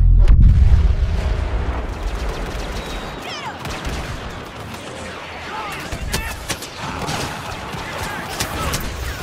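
Blaster fire and explosions from the Star Wars: Battlefront video game during a battle on Endor: a loud opening boom, then rapid overlapping shots and bursts that continue throughout, with voices shouting in the background.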